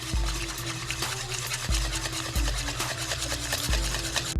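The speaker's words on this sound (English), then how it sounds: "Now I'm gonna slowly start whisking and work my way to the outside." A whisk beats eggs, vanilla, butter and milk into buttermilk pancake batter in a bowl, in a steady rhythmic swish with repeated soft knocks against the bowl, close and alone.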